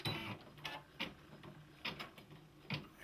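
A Brother PE-800 embroidery machine stitching, heard as a quiet, uneven run of soft mechanical clicks and ticks, roughly a few beats per second.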